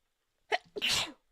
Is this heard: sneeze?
yes